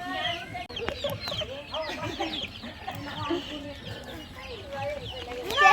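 Chickens clucking continuously at a chicken farm in the Philippines, a busy layered flock close by, with children and adults talking over the birds throughout.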